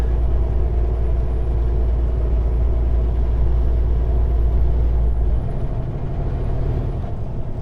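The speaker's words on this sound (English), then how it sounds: "we're downshifting here and working hard to get up this hill" A lightly loaded semi truck's engine drones loud and steady as it climbs a hill, then drops in pitch partway through as it downshifts, with no talking.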